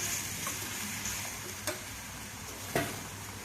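Onions and green chillies fry in a pan for a ridge gourd, dried shrimp and egg curry, a soft constant sizzle with a few faint spoon scrapes, quiet and close, no talking.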